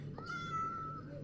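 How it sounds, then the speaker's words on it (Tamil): A single faint cat meow from the Minecraft video game, a brief rising-then-falling cry heard quietly over a low background hum, with no talking. "ஆஹா, நல்ல பூனை தப்பிச்சு போயிடுச்சு. நொல்ல பூனை மாட்டிக்கிச்சு அதுக்கு பதிலாக."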